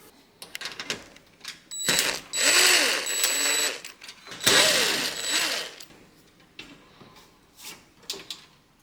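A power screwdriver whirs in two rising and falling bursts, with clicks and metallic clatter in between, while screws are backed out of the rear panel of a JennAir wall oven.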